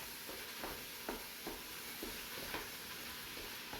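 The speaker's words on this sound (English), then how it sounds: "And now we're going to cook. We're just going to let it brown." Ground meat browns in a pan for chili-stuffed peppers, heard as a faint, even sizzle with soft spatula stirs about every half second, with no talking.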